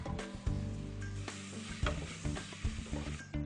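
Tomatoes tipped into a hot pan of caramelising vegetables, close clattering stirs and scrapes over a bright, crackling sizzle with irregular bumps throughout.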